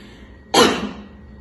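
A single sharp cough from a patient during a medical examination bursts out, loud and close, then trails off over a quiet background.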